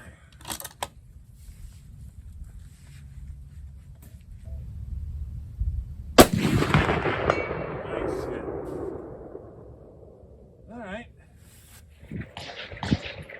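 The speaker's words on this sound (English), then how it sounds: "I believe this will be the last shot" A Belgian Mauser rifle in .30-06 fires a single loud, sharp shot midway, its blast ringing out and decaying over a few seconds outdoors, with faint handling noises before and after.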